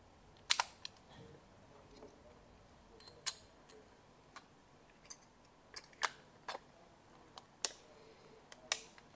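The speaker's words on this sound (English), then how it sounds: "So it's a different shutter system, works well." The shutter of a 1960s Zeiss Ikon camera clicks open and closed repeatedly, crisp mechanical snaps at irregular intervals against a quiet background.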